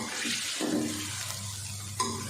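Chicken fries with onion, ginger and garlic in a pan, giving a steady close sizzle and hiss with a brief stirring scrape near the end.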